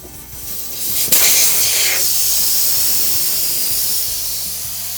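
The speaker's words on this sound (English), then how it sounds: "we'll let this thing deflate" Air hisses out of a car tire inflated to about 35 PSI once the valve stem core is pulled, a loud, steady broadband rush that starts abruptly and holds nearly constant, easing only slightly toward the end.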